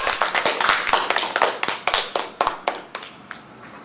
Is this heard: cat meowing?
no